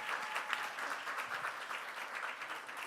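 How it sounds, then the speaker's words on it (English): An audience applauds after a performance at an event in Seoul, a dense, steady wash of clapping from a moderately distant crowd that holds evenly for about three seconds. "Please give warm rounds of applause to them."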